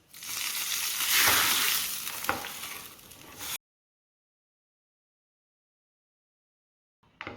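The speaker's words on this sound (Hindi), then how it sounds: "इसमें हम हींग जीरे को अच्छी तरह से भून लेंगे।" Asafoetida and cumin sizzling in hot ghee for a tempering, a loud steady hiss and crackle for about three and a half seconds, then silence and a brief burst near the end.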